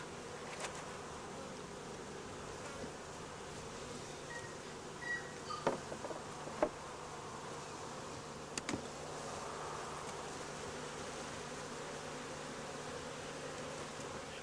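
Honey bees buzz around a beehive in a steady, faint, low hum, with a few brief louder passes as individual bees fly close.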